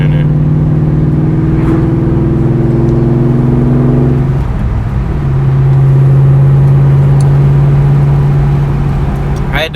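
A 2004 Ford Mustang Cobra engine drones steadily from inside the car on a smooth drive, shifting pitch once as the gear changes midway. The sound stays loud and constant.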